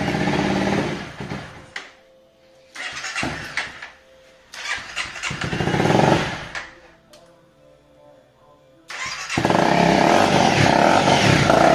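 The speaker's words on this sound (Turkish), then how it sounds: "İlk marşa basıyoruz." A custom motorcycle built from a Honda CRF is cranked and started, with several loud close bursts of cranking and sputtering between pauses before the engine catches and runs steadily.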